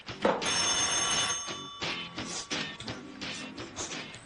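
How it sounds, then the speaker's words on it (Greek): A telephone rings in a studio with repeated bursts of electronic trilling, close and clear, broken by short gaps between rings. "Τηλέφωνο πάρτο γιατί εγώ θα το βρίσω."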